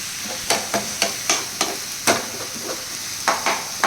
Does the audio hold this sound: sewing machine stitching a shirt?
no